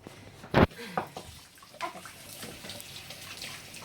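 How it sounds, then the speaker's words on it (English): A kitchen tap runs while hands are washed after baking raspberry scones, with a sharp close splash early on, then lighter trickling and faint voices. "while I go and wash my hands"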